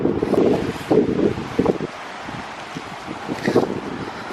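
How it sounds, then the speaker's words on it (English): Gusty wind buffets the microphone with a broad, rough rumble, rising and falling in bursts, loud and close with no talking. "Oh my gosh, it's so windy"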